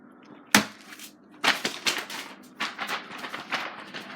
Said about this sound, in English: That's the sound of a big giant packet.